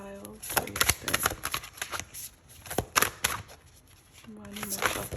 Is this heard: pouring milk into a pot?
no